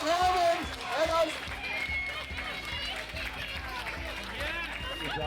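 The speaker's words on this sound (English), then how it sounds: "Please make some noise for the crew from Bridge North, Mark Hammond, and us." A crowd at a British live-fire BBQ championship cheers and applauds the winning crew, with steady clapping and voices heard alongside an announcer talking.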